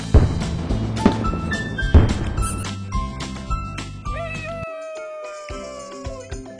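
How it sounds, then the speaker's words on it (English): A cartoon cat meows a few times in a children's word puzzle game: rising and falling tones near the end, after bright music and chimes, moderately loud. "Cat!"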